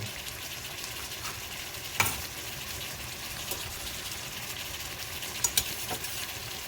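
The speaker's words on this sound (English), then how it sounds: "a really strong garlic smell, and that's when you know it's time to turn the heat on low" Garlic fries in a pan for tomato sauce, giving a steady, even sizzle throughout, with a few faint clicks and utensil taps breaking through.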